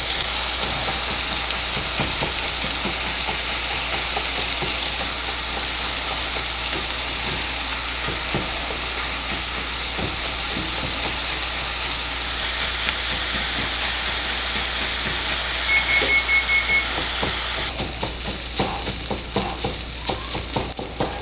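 Holiday stuffing ingredients sizzle and fry steadily in a pan, a loud continuous hiss with scattered scrapes and chopping taps from a utensil breaking them up, growing choppier toward the end.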